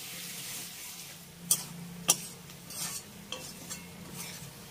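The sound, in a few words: potatoes and onions frying in a pan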